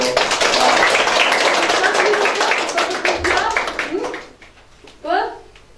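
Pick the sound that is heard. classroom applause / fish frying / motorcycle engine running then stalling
classroom applause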